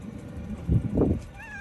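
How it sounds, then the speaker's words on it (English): Domestic cat meowing unhappily in cold weather, two short low, strained cries in quick succession, fairly faint against background rumble, with a brief whistle-like tone near the end. "And the cat."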